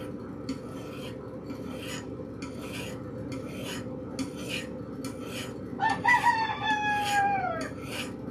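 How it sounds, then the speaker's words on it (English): A rooster crows once in the distance near the end, over steady rasping scrapes repeating at a regular rhythm close by. "some roosters in the background"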